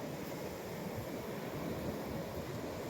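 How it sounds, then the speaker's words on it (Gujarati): Sea waves rolling onto a beach with steady broadband surf noise and some wind rumble, continuous and fairly close, with no voices. "પાટામાં મોજા પણ આપ જોઈ શકો છો."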